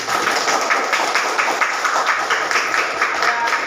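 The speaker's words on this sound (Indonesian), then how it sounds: "Tepuk tangan dulu untuk Putri." A classroom of students applauding a classmate, with dense, steady clapping from many hands continuing loudly throughout.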